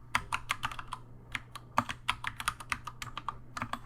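Quick, uneven keystrokes on a computer keyboard while formatting text in note-taking software, with crisp clicks in bursts over a faint steady hum and no speech.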